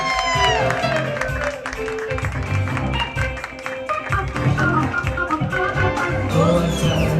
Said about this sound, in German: Einen riesen Applaus!